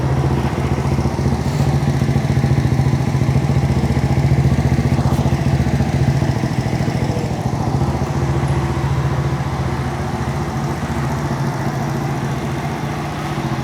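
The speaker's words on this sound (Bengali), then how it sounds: "এই তো বাইকটা এখন স্টার্টে আছে" A small 80cc Runner motorcycle engine, modified as a cafe racer, idles steadily nearby, a continuous low putter holding the same even rhythm throughout.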